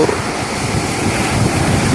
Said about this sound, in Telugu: సముద్రం యొక్క అలలు